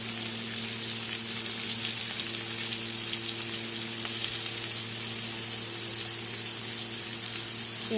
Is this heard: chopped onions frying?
yes